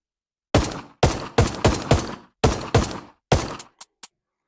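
Gunshots from a handgun in a VR zombie shooting game on Oculus Quest 2, eight sharp, close reports fired at a steady pace with short decaying tails, then two small clicks as the magazine runs dry.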